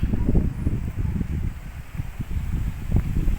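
Strong wind in Baguio buffets the microphone in heavy low gusts that rise and fall, with rustling texture over the rumble.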